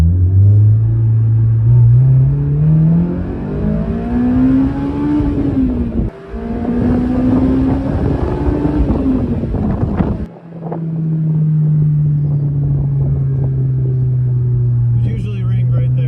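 Car engine revving hard at high RPM on a warmed-up test drive, the note climbing and falling through gears with a brief drop, loud and steady over road and wind rumble, checking for a ringing shifter.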